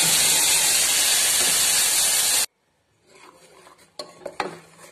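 Masala of coriander powder, turmeric, salt and red chili powder being stirred into small potatoes in a pan, a dense hissing sizzle for a couple of seconds, then sudden quiet and a few scraping, clinking spoon strokes.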